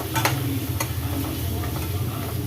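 Tomatoes with spices sautéing in a pan for garlic tomato rice, a soft steady sizzle with faint stirring clicks throughout, no voices.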